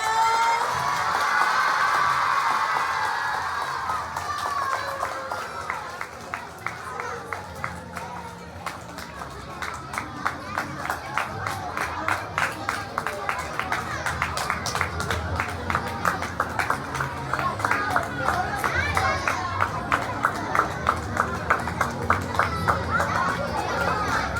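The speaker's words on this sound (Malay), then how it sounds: "Tepuk tangan sikit semua." An audience at a teacher's retirement ceremony claps, starting thin and scattered and then settling into steady rhythmic applause from many hands in a hall. A voice talks over the start.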